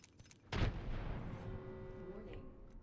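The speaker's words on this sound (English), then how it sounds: "I'm gonna toss a nade at the box." A thrown grenade detonates in the Apex Legends battle royale game: a short scrape, then one loud, deep blast that rolls on as a long, fading rumble.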